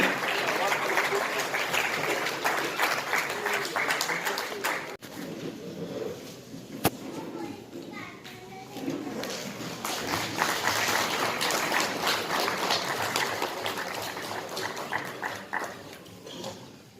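Audience applause at an award ceremony for Arabic teachers marking World Arabic Day in Aurangabad, a broad, steady wash of clapping that runs loud through most of the stretch, dipping briefly midway, with voices mixed underneath.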